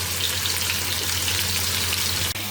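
Meat fries in a pan with a dense, even sizzle that crackles continuously at close range, dipping only for a split second near the end, with no talk.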